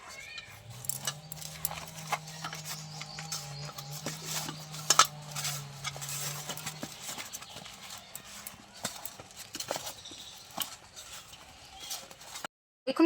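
Eggplant pieces get tossed with salt and turmeric in a bowl, making close, rhythmic clattering and knocking against the dish over a low steady hum.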